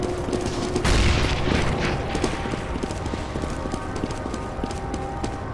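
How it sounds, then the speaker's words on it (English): A grenade detonates in a competitive CS:GO match on the Vertigo map: one loud, close boom near the start, followed by a fainter rattle of footsteps and mechanical clicks. "Throwing a grenade."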